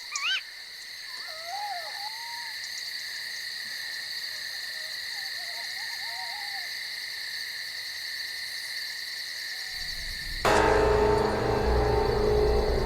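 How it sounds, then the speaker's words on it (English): Owl chicks call in the dark, thin wavering cries repeated at intervals over a steady, loud chorus of night insects and frogs, ending with an abrupt shift to a louder wash of sound. "Hidden where no light can give them away, the owl chicks are waiting for dinner."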